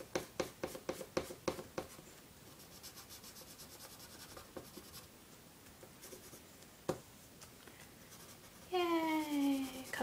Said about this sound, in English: just color all the paper on that side